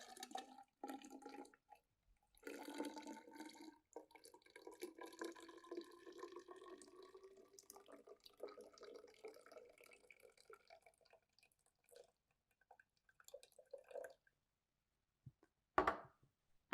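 Liquid poured in a laboratory: a steady trickling splash runs for several seconds, thinning into scattered drips before a brief sharper clink near the end, fairly close and otherwise quiet.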